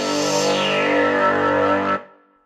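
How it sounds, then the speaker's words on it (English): An Omnisphere 2 synth chord holds loud and bright while an envelope-driven filter sweeps its tone downward over about two seconds, then cuts off and a short tail fades out. "So if I start applying some of the envelope, you'll get this attack, decay, sustain, and release. You'll hear the filter be applied over time."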